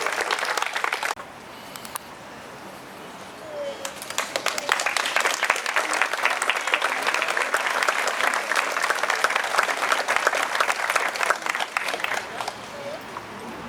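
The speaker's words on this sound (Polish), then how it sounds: "jeszcze raz duże brawa" An audience claps at a special-needs school presentation, starting with a short burst, a brief lull, then sustained dense applause from about four seconds on, with voices mixed in.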